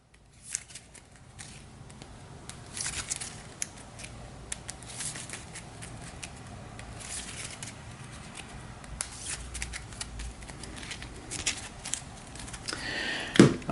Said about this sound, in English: So we'll give that a shuffle.